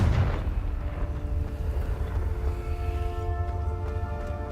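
A Confringo blasting spell bursts with a loud, deep explosion in Hogwarts Legacy, a strong boom at the start that rumbles on and fades under a lingering tonal hum.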